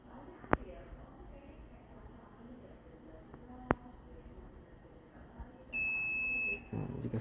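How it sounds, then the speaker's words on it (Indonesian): An INFITEK CFGR-15D refrigerated micro centrifuge gives its finishing beep, a steady electronic tone lasting under a second, over a quiet room with a couple of sharp clicks beforehand. "Jika sudah selesai, sudah berbunyi, maka kita bisa buka doornya untuk membuka rotornya kembali."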